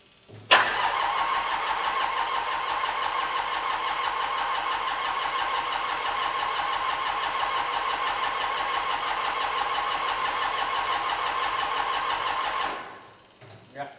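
The diesel engine of a 1995 Gehl 5625sx skid steer, with a jumper pack connected, catches abruptly and runs as a loud, steady, rhythmic drone for about twelve seconds before cutting off.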